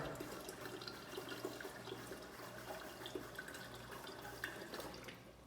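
Water running steadily from a refrigerator dispenser just after a new water filter was fitted, a continuous faint splashing flow with a low hum underneath, no voices.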